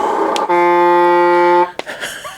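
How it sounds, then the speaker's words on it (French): A 1/12 scale RC truck sounds its electronic horn in a single flat, buzzy tone held for just over a second, loud and close, with brief noise before and after. "Il y a un klaxon mais qui coupe le moteur."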